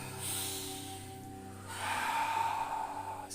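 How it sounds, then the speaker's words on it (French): Deep, ample Wim Hof–style breathing, a long drawn breath followed by a stronger airy exhale, close and fairly quiet over a faint steady hum. "Ma respiration ample, profonde."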